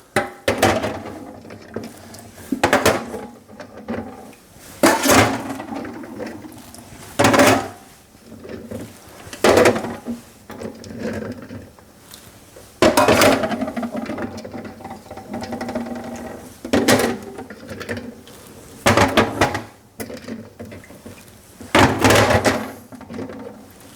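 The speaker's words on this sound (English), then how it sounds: "very gently, I'm going to remove those clams." Cooked clams are lifted gently out of a pot, giving sharp, scattered shell clacks and clatters against the metal, several separate knocks spread over the stretch with quiet pauses between.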